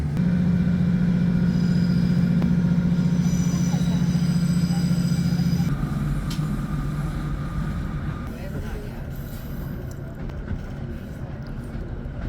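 A Northern passenger train rolling along the Cumbrian Coast line toward Carlisle, heard from on board as a steady low rumble and drone that later shifts and eases, with an onboard announcement voice over it.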